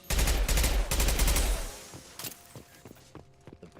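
A submachine gun rattles off two loud, rapid bursts in Mass Effect 2, then fades into a few scattered lighter taps and footsteps.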